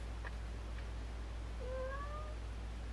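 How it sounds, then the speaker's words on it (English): A house cat lets out a single short rising meow near the end, with a steady low hum underneath and no talking. "Excuse the cat."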